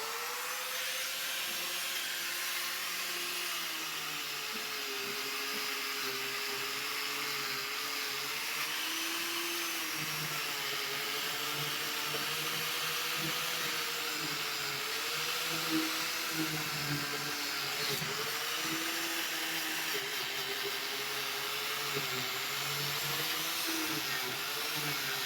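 Angle grinder running steadily on metal, throwing sparks, in a shop during a 1940 Chevy build; a continuous loud whine with wavering pitch as the disc loads and unloads, running alone without pause.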